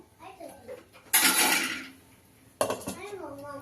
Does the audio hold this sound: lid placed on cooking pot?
yes